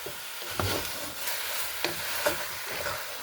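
Chicken fries in a little oil, giving a quiet sizzle broken by a few sharp clinks and scrapes of stirring.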